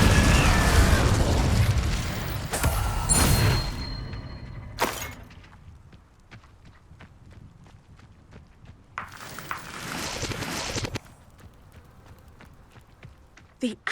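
An Incendio fire spell is cast in Hogwarts Legacy: loud fiery whooshes and booming, crackling bursts erupt in the opening seconds, then a second flare of roaring flame follows after a quieter stretch.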